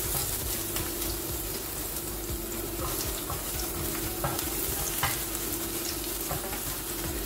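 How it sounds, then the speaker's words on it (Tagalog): Garlic sautés in hot oil as the base for a stir-fried pancit canton, a loud, continuous close-up sizzle with faint scraping stirs and no talking. "Ngayon guys, mainit ng mantika. Ilalagay na natin ang bawang. Magigisa tayo."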